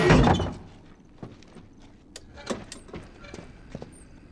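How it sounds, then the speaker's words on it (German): Door pulled shut in The Last of Us, a single close heavy thunk at the start followed by quieter scattered knocks and shuffling footsteps. "Und du machst die Tür zu."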